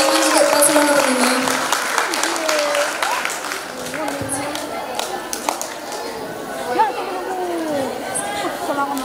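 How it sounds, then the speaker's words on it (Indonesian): An audience at a school student council candidate debate applauds in a steady, crackling wash of clapping, mixed with crowd chatter and voices throughout. "Tepuk tangan untuk paslon nomor 5."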